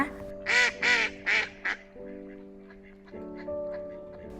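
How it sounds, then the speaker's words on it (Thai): Several loud duck quacks in a quick burst by a lake in Füssen, Germany, then a steady tonal hum continues underneath with faint bird calls in the background. "ฟังเสียงนกร้อง เป็ดร้องกันนะคะ"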